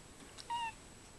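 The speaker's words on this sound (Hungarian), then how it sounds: "Itt egy macska." A cat lets out one short, thin meow at close range, quiet and clear, with a faint breathy sound just before it and no talking.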